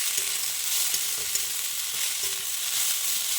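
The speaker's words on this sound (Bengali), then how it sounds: "তো ভাজতে থাকবো" Salted drumstick flowers fry in a pan, giving a steady close hiss of sizzling oil and moisture with faint occasional stirring. No one speaks.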